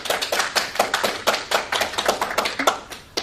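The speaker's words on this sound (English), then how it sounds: "And clap." A studio audience claps together in quick, uneven bursts, moderately loud and close, with no talking.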